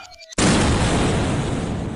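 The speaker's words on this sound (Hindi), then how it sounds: "खलीफा बम में आग लगाकर पीछे की ओर उछाल देता है और फिर एक धमाका।" After a moment of quiet, a sudden loud cartoon bomb explosion bursts and roars on, a broad rumbling blast that fades slowly.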